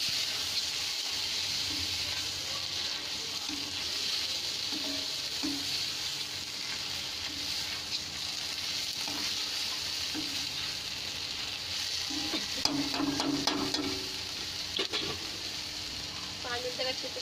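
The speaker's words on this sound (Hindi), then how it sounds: "घी डाल देंगे, अच्छे से मिक्स कर देंगे।" Paneer and soybean curry fries in ghee in a pan, giving a steady close sizzle throughout, with occasional clinks and scrapes from stirring near the end.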